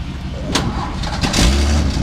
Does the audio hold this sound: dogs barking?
no